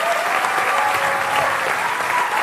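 A studio audience at a Quebec comedy talk show breaks into steady, full applause for a comedian, a continuous wash of many hands clapping at even loudness with no talk over it.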